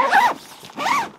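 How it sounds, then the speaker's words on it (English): A zipper pulled on a waterproof pistol case with silicone-lubricated teeth, two close rasping strokes in quick succession followed by a faint click. "you go give your zipper a pull."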